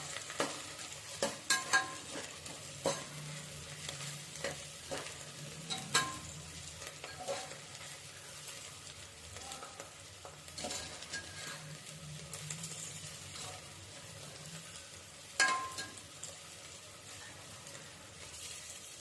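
Green chillies fry and sizzle in oil in a pan while a spoon stirs them, with a steady crackle broken by occasional scraping clinks, for a chicken biryani.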